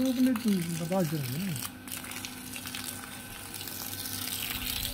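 Water gushes under pressure from a pipe as a steady broadband hiss and splash. A voice speaks clearly at the start, then the rushing water carries on alone.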